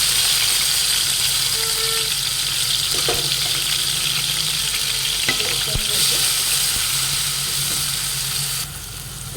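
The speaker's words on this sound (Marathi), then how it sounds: "तेल तापलेलं आहे याच्यात आपण आता हे वाटण केलेलं टाकून घेऊया" Ground masala paste sizzles and fries in hot oil in a kadai for a Nagpur-style Saoji patwadi rassa, a loud, steady crackling hiss close by with occasional stirring scrapes and no talk.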